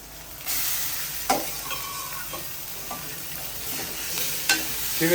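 Fish frying in a pan gives a steady loud sizzle close by, broken by a few sharp spatters and knocks of a utensil, no talking.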